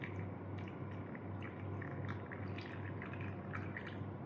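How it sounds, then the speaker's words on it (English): Liquid drips through filter paper in a funnel during a school laboratory filtration, a faint, steady patter of small drips over a low hum, with no talking. "The filtration is going on. You can see the liquid dripping down."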